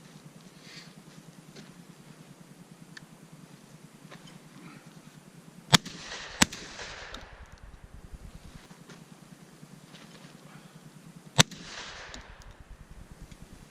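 A Beretta A300 Outlander gas-operated semi-automatic shotgun fires light loads on an outdoor range: three sharp, loud blasts, two close together and one later, over steady wind and hum.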